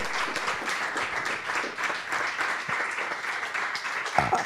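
Audience applause at a gender equality event, a steady wash of many hands clapping at moderate distance, sustained throughout with fairly even intensity.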